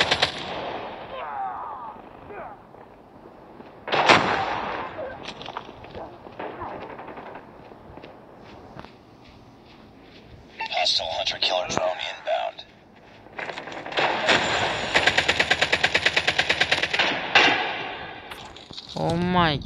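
Bursts of rapid automatic gunfire and single sniper shots in the video game Call of Duty, loud and intermittent with a long rattling burst near the end, mixed with excited talking.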